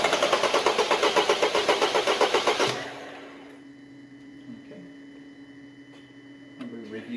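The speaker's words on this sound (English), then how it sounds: "You start the vehicle." Diesel engine cranking on the starter during a compression test, a loud rapid rhythmic chugging for about three seconds that stops abruptly, leaving a quiet steady hum with faint clicks.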